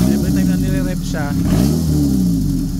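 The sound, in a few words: Mitsubishi Lancer 4G15 engine being revved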